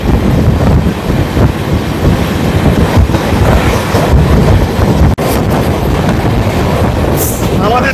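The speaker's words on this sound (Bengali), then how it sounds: "স্কিপ করছে আমাদের ট্রেন এই মুহূর্তে।" Sairang–Kolkata express train rolling through a station without stopping, a steady loud rumble and rattle of the carriages with wind buffeting, one brief sharp break in the noise partway through.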